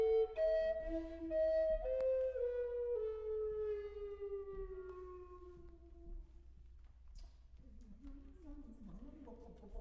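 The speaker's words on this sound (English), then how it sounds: "it's better to call an ambulance and fetch a doctor for Isabella." An ambulance siren wails loudly in long, slowly falling tones for about six seconds, then fades as murmuring voices take over.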